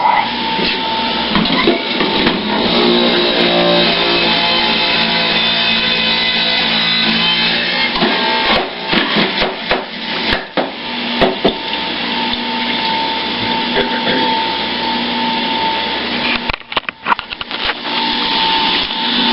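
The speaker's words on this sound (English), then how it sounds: "So I'm just going to juice up this one, and I'll show you how it works." A vegetable juicer grinds loudly and continuously, with a steady motor drone and occasional knocks and crunches as produce is pushed through.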